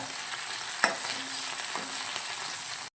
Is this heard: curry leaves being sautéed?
yes